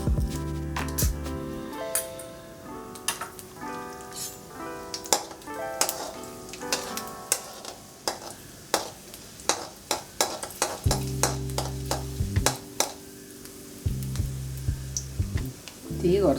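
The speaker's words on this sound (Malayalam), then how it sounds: "കടുക് പൊട്ടി തുടങ്ങുമ്പോൾ" Mustard seeds and urad dal fry in hot oil and ghee for vermicelli upma, crackling and popping in sharp irregular bursts over a gentle sizzle, with background music playing.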